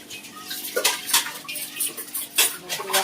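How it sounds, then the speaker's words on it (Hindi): Dishes, pots and cutlery being washed by hand, with close, irregular clinks and scrapes of metal and utensils knocking together over a steady running-water wash, no voices. "अब मैं सारे बर्तनों के इसी तरह धो लूँगी।"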